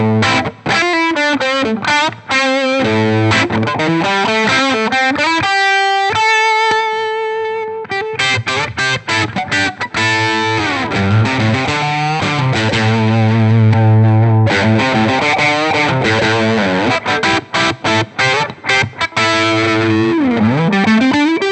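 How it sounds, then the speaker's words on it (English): Electric guitar through stacked pedals including a Boss OD-3 overdrive, loud saturated riffing and sustained chords played continuously with dense, gritty distortion and no talking. "that's going to cascade together with the overdrive sound of the OD-3, which is really nice"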